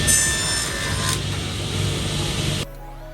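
Broadband whine and rasp of a table saw cutting through wood runs steadily, then stops abruptly near the end.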